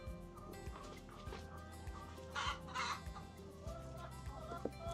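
Chickens on a farm estate cluck softly and repeatedly while being fed, with a busier burst of clucking in the middle, all fairly close amid low background noise.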